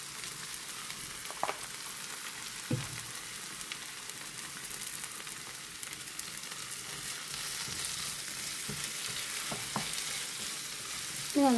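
Vegetable stir-fry of mezhukkupuratti seasoned with salt being stirred in a pan, a soft continuous sizzle with a few faint scrapes of a spoon, close but quiet, no voices.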